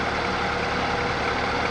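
Microlight trike (hang-glider trike) engine idling with the throttle pedal released, a steady low rumble holding even and continuous throughout, close and fairly loud with no voices.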